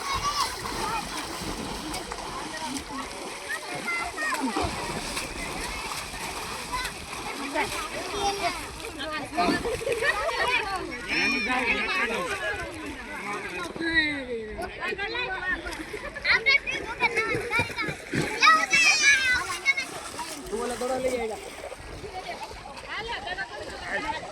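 Water splashes repeatedly as people bathe, with children and adults talking and calling out throughout, lively and nearby.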